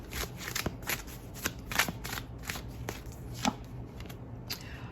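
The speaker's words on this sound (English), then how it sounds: "I'm going to pull a few more cards from the Romance Angel Oracles" Oracle cards from the Romance Angel Oracle deck being shuffled by hand, a run of soft riffling flutters and crisp snaps at an irregular pace, fairly close and quiet, with no voices.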